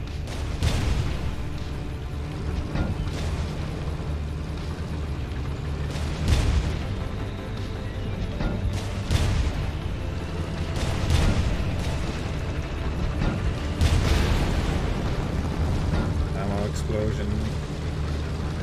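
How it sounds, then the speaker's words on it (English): Tank battle explosions in the top-down tactical game Tankocracy sound as repeated heavy booms and bursts over a dense rumbling game soundscape, with a voice talking at times. "Explosion."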